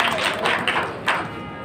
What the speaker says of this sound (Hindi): जोरदार तालियां शीतल जी के लिए।